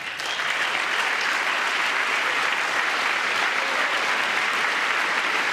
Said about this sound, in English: I think it's gross that Congress claps for this